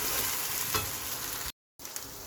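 Onions fry with a tablespoon of ginger garlic paste for a chicken aloo salan, giving a steady, close sizzle and stirring scrape, with a short dropout partway through.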